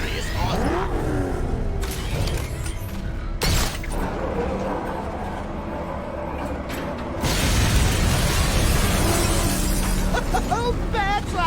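Batmobile engine in the Batman Arkham Knight game, rumbling and revving loudly with crashes and mechanical clatter, surging stronger in the second half, with voices talking in places.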